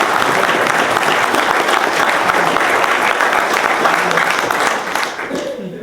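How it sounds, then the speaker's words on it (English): Audience at a University of Missouri School of Law symposium applauds with steady, full clapping that fades toward the end as a voice begins speaking. "I was hoping to hear some applause for her"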